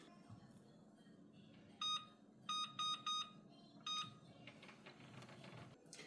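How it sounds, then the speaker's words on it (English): Kitchen timer being set for a boil on the stovetop, giving five short, sharp electronic beeps in a quick irregular pattern over a quiet kitchen background. "I'm going to go ahead and set a timer for 3 minutes."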